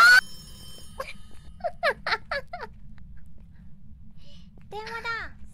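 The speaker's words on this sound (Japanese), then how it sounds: "電話だ。" A phone rings in a haunted house in the ghost-hunting game Phasmophobia, giving a few quick repeated electronic ring pulses among quieter in-game sounds and a short voice-like glide, over a low steady background hum.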